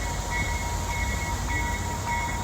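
A train on the Detroit, Toledo, and Ironton Railroad rumbles steadily nearby, and a faint high tone recurs over the low, continuous rail noise.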